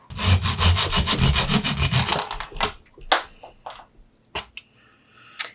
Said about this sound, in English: Then I'm going to take my handsaw